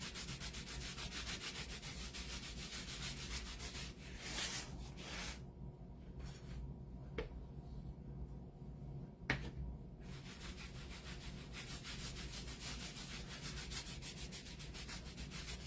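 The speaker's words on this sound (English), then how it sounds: "So I'm going to apply the wax," Wax rubbed by hand onto a faux wood painted surface, a steady soft scrubbing and swishing that runs continuously at close range with a brief quieter pause midway.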